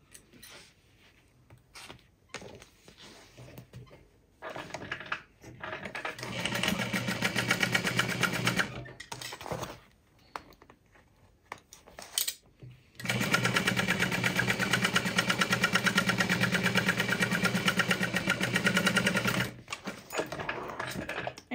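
A sewing machine runs in two long bursts while batch-sewing crossbody bag pieces at a 3/8 inch seam allowance. The motor hums steadily and the needle chatters rapidly and loud, with short pauses and quiet handling noise between runs.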